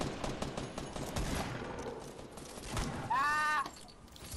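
Gunfire in a Fortnite Battle Royale squad match: quiet, rapid bursts of shots spread through the moment under the game's ambient sound, with a brief whistling tone near the end.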